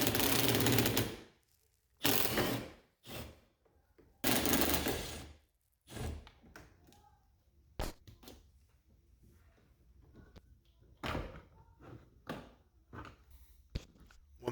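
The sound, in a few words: 7mm socket loosening Ford Super Duty A pillar trim bolt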